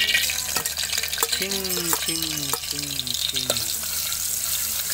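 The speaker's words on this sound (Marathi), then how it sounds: "आता टाकायचं पहिले लसण त्याच्यामध्ये." Garlic dropped into hot oil in a pan over a village stove fire, ahead of a chicken curry, gives a steady hiss with stirring scrapes, while a voice murmurs over it.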